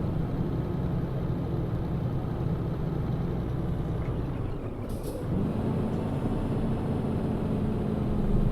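A Scania truck in Euro Truck Simulator 2 with a Scandinavian mod drones steadily at low pitch, briefly hissing with an air-brake release midway before the engine note resumes and slowly builds, no voices.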